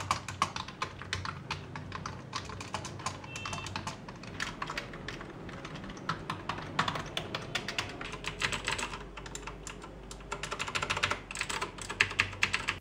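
Rapid, continuous typing on a TVS Bharat Gold mechanical keyboard with dense clicking keystrokes, close and fairly loud, steady throughout with no talking.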